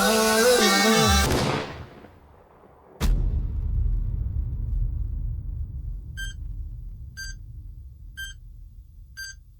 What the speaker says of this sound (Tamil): வெறும் இடி சத்தமும் மின்னல் சத்தமும் மட்டும்தான் கேக்குது